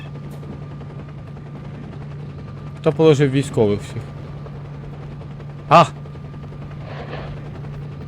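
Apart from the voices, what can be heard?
helicopter, from the video game S.T.A.L.K.E.R.: Shadow of Chernobyl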